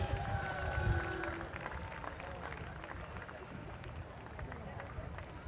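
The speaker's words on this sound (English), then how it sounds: "Big round of applause for these 2 officers." A crowd at an Armed Forces Day parade in Torrance claps for two police precision bicycle drill team officers. Faint, scattered applause sits under distant crowd noise and a little talk outdoors.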